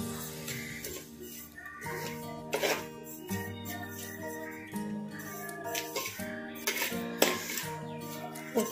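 Vegetables for rava upma fry lightly in a pan, with a steady clatter of a utensil scraping and knocking the metal, under a bed of tonal background music throughout.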